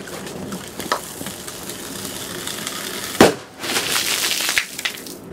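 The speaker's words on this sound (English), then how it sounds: "Causing the PET bottle to spectacularly explode" A PET plastic bottle bursts from liquid air expanding inside it, giving one sharp, loud crack followed by a brief crumbling rustle of debris.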